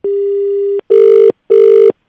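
A telephone rings loudly in a steady electronic pattern, one long tone followed by two shorter bursts, each clean and close with no voices over it.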